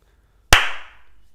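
A single sharp hand clap, loud and close, snapping out of silence with a short ringing tail, at the start of a sports podcast recording.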